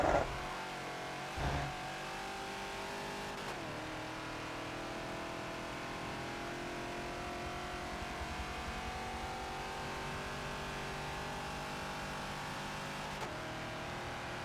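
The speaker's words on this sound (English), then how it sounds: "there's so much full throttle and so much we're upshifting" Ford Falcon XB race car in Forza at Daytona, its engine held at full throttle in a steady, sustained drone with pitch rising through the gears, plus a couple of brief bumps near the start.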